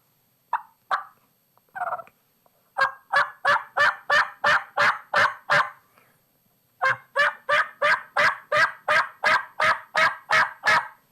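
A hunter works a mouth call to imitate turkey hen yelps, producing a few tentative notes followed by two rapid, loud runs of about eight and eleven raspy yelps, with no talking.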